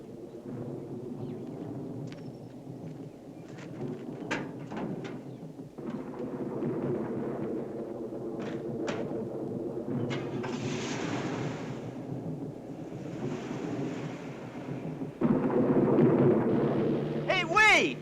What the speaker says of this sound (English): like a storm's coming up